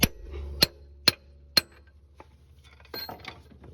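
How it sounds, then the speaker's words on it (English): Four sharp metallic taps of a 3- to 4-pound hammer striking a big chisel while removing a 2008 Mazda 3 CV axle, evenly spaced about half a second apart, followed by quieter clinks and rattling. "I'm going to take a big chisel. Nice big 3-pound, 4-pound hammer. And just tap it."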